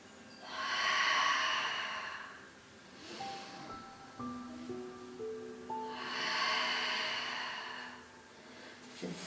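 During a slow Pilates leg exercise, two long, loud breathy exhales rise and fade several seconds apart, with soft stepped musical tones playing quietly between them.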